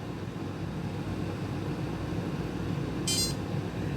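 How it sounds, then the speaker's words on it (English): A single short, high electronic beep from a Samsung SmartTag resetting as its battery is inserted, heard once near the end over a steady background hiss. "until you hear a beep."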